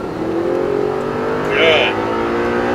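Audi R8 on a track at full throttle, its engine note holding steady and then surging louder as it accelerates, with a person talking over the sound.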